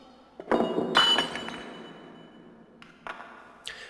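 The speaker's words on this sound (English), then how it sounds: "what the breaking of the wine glass means" A wine glass breaks in 2001: A Space Odyssey, with a sharp clinking impact and a bright shattering burst that rings briefly, followed by a few smaller glassy clinks.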